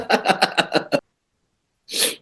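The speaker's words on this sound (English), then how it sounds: "You're sniffling, dude." A short sharp nasal sniff from someone with bad allergies, following a quick run of breathy, rhythmic bursts and a second of silence, close to the mic.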